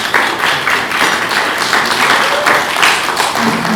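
An audience claps steadily for speaker Hans Sinha at a Friday night dinner in Clarksdale, Mississippi, a dense, even patter of many hands that holds for a few seconds without a break.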